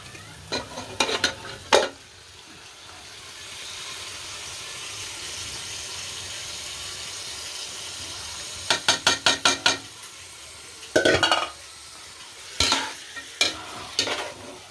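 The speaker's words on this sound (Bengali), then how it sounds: "মাংসটা এভাবে দিয়ে আমরা 10 থেকে 15 মিনিট ভালোভাবে কষিয়ে নেব।" Beef pieces frying in oil and spice paste in a pan, a steady sizzle broken by bursts of sharp metallic scraping and clattering stirring strokes, close by and without talking.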